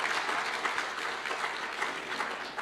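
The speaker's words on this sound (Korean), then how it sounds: "우리 박수를 한번 격려해 주시면 감사하겠습니다" Congregation applause in a Korean Presbyterian church service: a sustained, even burst of clapping from the pews, moderately loud and continuous throughout with no speech over it.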